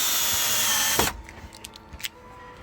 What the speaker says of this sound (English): We're putting handles on it.